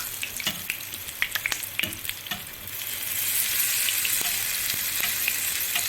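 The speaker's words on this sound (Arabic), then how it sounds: "وتقلي عالي في الزيت السخن زي ما انت شايفة" Falafel patties deep frying in hot oil, a steady close sizzle with scattered crackles and pops that swells into a louder, denser hiss partway through, with no talking.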